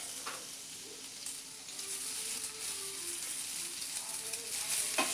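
Leftover idlis frying with finely chopped garlic in a pan, a steady close sizzle with occasional stirring scrapes, no voices.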